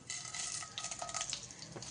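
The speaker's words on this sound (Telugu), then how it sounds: "ఆయిల్ కొంచెము కాగిపోయింది ఇప్పుడు పోపు గింజలు" Mustard and other tempering seeds sizzle in hot oil for pulihora, a steady close crackling fry with a few faint stirring clinks and no talking.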